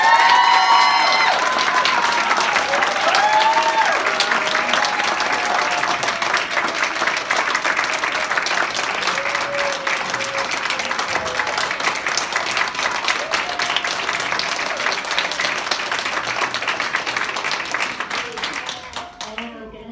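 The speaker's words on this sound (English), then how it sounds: "Come back for every meeting so we can have that lovely round of applause." Crowd at a school board meeting applauding after a unanimous vote on an inclusion resolution, sustained clapping with cheers and some shouting that slowly fades over about twenty seconds.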